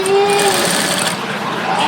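Steady, loud whirring of a sewing machine stitching a heavy maggam work blouse, a continuous close mechanical drone with no talk.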